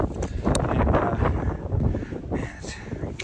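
Wind buffets the microphone outdoors on a winter trapline check, a loud rumbling gusty roar that swells and eases, with a few crow caws in the distance.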